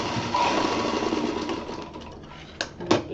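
A sewing machine runs a steady, close whirring stitch while attaching a zip to a small round kids' bag. It stops and is followed by two brief knocks.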